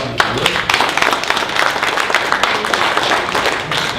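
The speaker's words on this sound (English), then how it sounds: "Give them a round of applause." Audience applause at a seminar on the New Hampshire constitution, loud, dense and continuous clapping from a close crowd.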